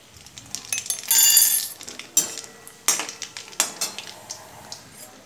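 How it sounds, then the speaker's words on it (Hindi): Mustard seeds crackle in hot oil in a pan while kanda poha is being made: a burst of hissing spatter, then scattered sharp pops and clinks at irregular intervals, close and fairly loud, with no talk. "सरसों थोड़ी जो अच्छे तरीके से तड़क जाए"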